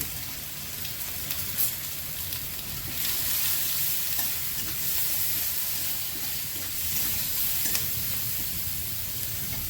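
Pointed gourd fries with turmeric and salt in a steady, close, continuous sizzle, with occasional stirring scrapes and no voices.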